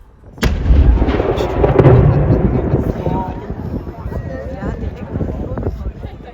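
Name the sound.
One O'Clock Gun firing at Edinburgh Castle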